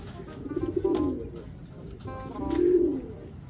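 Racing pigeons coo close by during basketing, two soft, throaty rolling coos separated by a short pause, heard alone and clearly.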